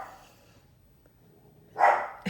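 A pet dog gives a couple of short, sharp barks close by, the first loud and the second briefly following, after a quiet stretch with faint background murmur.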